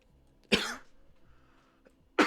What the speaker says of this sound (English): this coughing